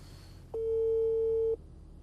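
A single steady busy-signal tone from a phone call that gets cut off, lasting about one second with quiet room noise before and after.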